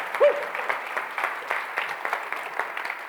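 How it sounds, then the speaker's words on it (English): Audience applause at a comedy keynote talk on Android development, fairly light and patchy, with a brief voice near the start. "Applause for I don't even know anymore."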